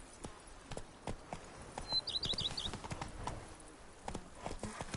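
Horse hooves clopping at a quick, steady rhythm in the video game Blood and Wine, moderately distant and fairly faint, with a brief whinny-like cry partway through.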